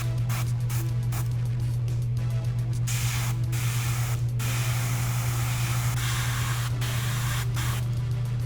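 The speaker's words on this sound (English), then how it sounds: "So when I shoot through the airbrush, it'll create that kind of aging effect." Airbrush spraying thinned black paint onto a prop gun: a steady, close, continuous hiss of air and atomized paint with a constant low compressor drone, running unbroken throughout with brief dips in intensity.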